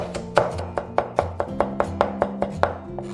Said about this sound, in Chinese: 准备几颗大蒜，先拍碎，然后切成蒜末